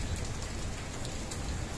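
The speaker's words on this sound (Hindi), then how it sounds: "इस वक्त ये ओले बरस रहे हैं" Heavy hailstones falling together with rain, a dense, steady, close hiss and patter that fills the whole stretch without any talk.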